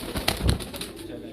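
A pigeon coos softly and close by, a short low throaty burst of a few pulsing notes.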